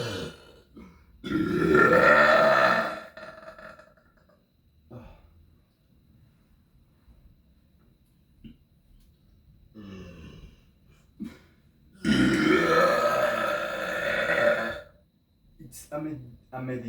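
Long, loud, throaty burps come from someone lying in bed, two big drawn-out belches with quieter grunts and small throat sounds in the pauses between them.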